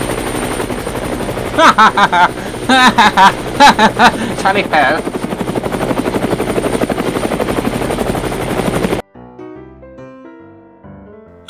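Helicopter rotor roaring loud and close in Metal Gear video game machinima, a steady chopping drone with bursts of gunfire-like stutter and voices talking over it, cutting abruptly to quiet game music near the end.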